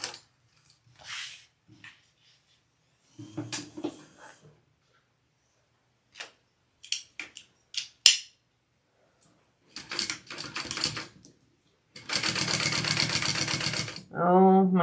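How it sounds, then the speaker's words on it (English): Sewing machine stitching a vinyl handbag: bursts of rapid, even mechanical chatter, the longest running about two seconds near the end, close and fairly loud, between quieter handling noises and a few spoken moments. "All right, we're going to sew these on."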